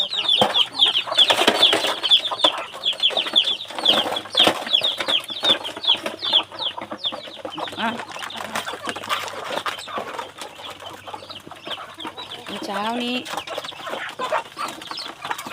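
Many free-range native chickens cluck and chatter continuously at close range, with some wing flapping and someone speaking briefly in Thai over them.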